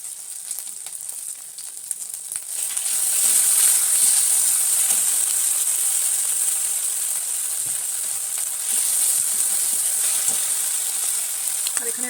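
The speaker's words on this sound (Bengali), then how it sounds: "এবারে দিয়ে দিচ্ছি টমেটো সস।" Tomato sauce poured into a hot pan of frying fish kofta curry, a bright steady sizzle that surges louder as the sauce hits, then keeps crackling and hissing close up with faint stirring.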